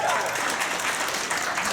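Clapping from the audience at a stand-up comedy show, a loud dense burst of many hands mixed with crowd noise that holds steady throughout.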